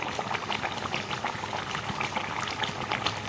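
Prawn malai curry bubbling steadily in a pan, a dense continuous simmer of popping and fizzing bubbles, close and unbroken, with no talking.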